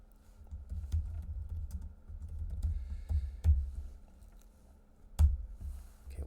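Typing code into the AutoLISP command line on a computer keyboard, with scattered individual key taps and a few sharper strokes over about six seconds, soft and close against a low background hum.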